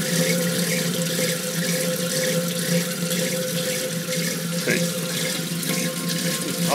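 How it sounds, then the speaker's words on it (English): A tap runs steadily, water splashing into a sink in a continuous, even rush close by. "If I turn the water down a little bit"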